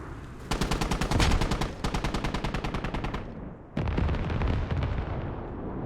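Rapid bursts of machine-gun fire crackle in a video game battle with a rocket strike on a Marine Army position, loud rhythmic volleys pausing briefly before another heavy blast and more fire.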